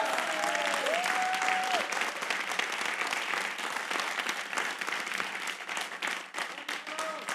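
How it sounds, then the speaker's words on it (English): Sustained applause from an event audience fills the room, loud and even throughout, with faint voices and whoops mixed into the clapping. "if I can ask for you guys to raise your hands so you guys can get a great applause"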